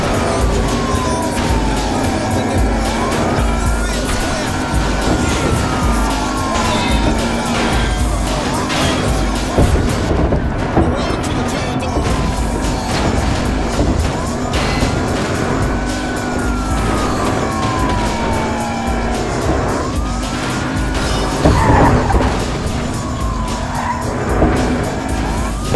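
Car engine revving and accelerating hard in the video game Battlefield Hardline, loud and continuous, with rising and falling siren wails, tire squeals, and game voices now and then.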